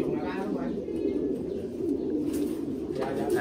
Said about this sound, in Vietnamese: Đấy, rất là nhiều chim.